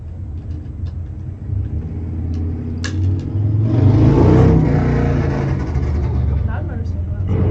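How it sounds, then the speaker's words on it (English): A loud motorcycle passes outside during indoor fabric-tumbler sewing work, its muffled engine rumble swelling to a peak midway and then easing off while staying audible. "Loud motorcycle outside."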